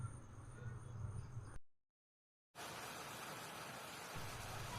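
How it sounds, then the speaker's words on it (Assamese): Heavy rain pours down steadily as a dense, continuous broadband wash, broken by a short stretch of total silence before the downpour resumes at the same level. "চাওক কিমান বৰষুণ দিছে।"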